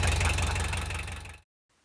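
An old machine's diesel engine idles low and steady, a loud, even rumble with a faint knock that runs for about a second and a half before cutting off into near silence.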